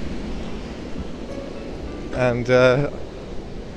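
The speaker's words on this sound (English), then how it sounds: "Waves coming in, still quite big. Hitting the breakwater there." Large sea waves surge against a breakwater at Ventnor, a continuous broad roar of rushing water in the open air, with someone speaking briefly over it.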